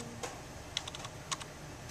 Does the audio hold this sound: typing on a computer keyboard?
yes